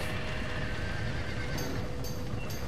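Horses in the western game Red Dead Redemption give a few shrill whinnies, close by and repeated over a dense, rumbling background, with no talk.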